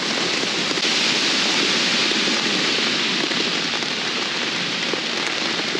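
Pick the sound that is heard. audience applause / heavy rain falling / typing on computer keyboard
heavy rain falling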